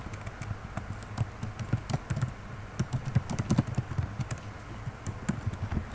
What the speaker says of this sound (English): Type your desired text.